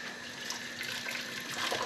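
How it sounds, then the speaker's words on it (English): Water poured over a gammon joint in a pot gives a steady, even rush with no break and no voices, fairly quiet and close. "And then just pour some water over."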